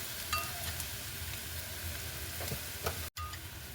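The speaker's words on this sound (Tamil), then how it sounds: "இது அடிப்பிடிக்க விடாமல் கொஞ்சம் கிளறி விட்டு கொண்டு இருந்தால் சரி." Spiced curry with chilli powder sizzles steadily in a pan while being stirred to keep it from sticking, with soft scraping and crackling throughout and a brief pause near the end.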